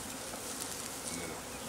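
Honeybees buzz in a dense, steady drone at a beekeeping demonstration at a nature center, close and continuous with no talk.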